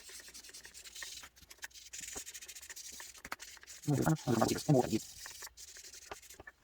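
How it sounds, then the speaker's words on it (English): A model 1968 AMT Corvair car body sanded smooth with 3000 grit sandpaper, soft close scratchy rubbing strokes throughout, with a few louder bursts near the middle and a voice talking over parts of it. "we're going to hit it with a little bit of 3000 grit, just to smooth out everything and get rid of any large scratches"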